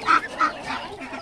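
Muscovy ducks on a farm give a few quick, breathy honking calls in close succession, near and fairly loud, with no talk over them.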